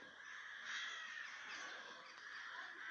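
A flock of crows flies overhead, their caws layered into a continuous, dense chorus at moderate distance with no talking.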